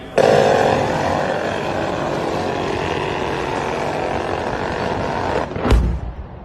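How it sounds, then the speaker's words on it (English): A C-RAM close-in weapon system machine gun fires in one long continuous roaring burst for about five seconds, loud and steady, ending with a sharp blast-like peak near the end. "That's the machine gun firing hundreds and hundreds of"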